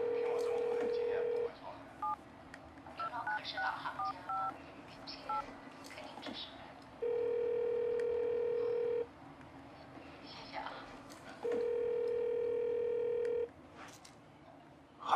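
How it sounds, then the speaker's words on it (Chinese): A landline number is dialed in a drama. A quick run of keypad tones is followed by two long, steady ringback tones that go unanswered, all quiet and mixed with faint background sound. "那你打固话呗，说不定在家。"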